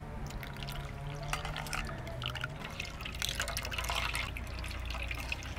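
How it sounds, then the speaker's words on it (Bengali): Water trickles and drips into thick blended raw mango pulp being thinned for a sherbet, a soft, close, continuous liquid pouring with small splashy drops and a low background hum, no voices. "আমের নির্যাসটা যেহেতু ঘন, তার জন্যে একটু সামান্য জল মিশিয়ে দিচ্ছি।"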